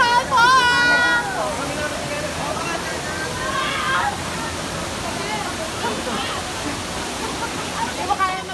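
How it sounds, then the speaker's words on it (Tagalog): Bukal Falls in Laguna pours in a steady, broad roar of falling water. Voices and shouts carry over it, strongest near the start and again toward the end. "Welcome sa Bukal Falls!"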